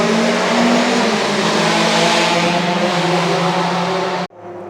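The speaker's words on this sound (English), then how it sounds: "These cars are really loud." Loud vintage racing car engines roar continuously close by at a racetrack, with high revving whine layered over rumble, before the sound cuts off abruptly near the end.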